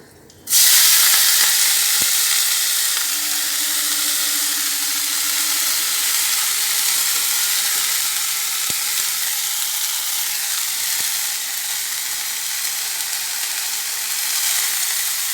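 Brahmi greens dropped into hot oil with split chillies, bursting into a loud, sudden sizzle that settles into a steady, close hiss of frying with a few faint clicks of a utensil.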